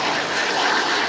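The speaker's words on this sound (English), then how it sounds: "I see that plane, that prop plane" A propeller airplane's engine roars steadily and loudly at an active airport in Palo Alto, a dense, continuous drone with no breaks and no voices.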